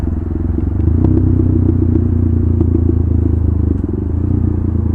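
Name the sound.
KTM Duke 390 motorcycle engine at night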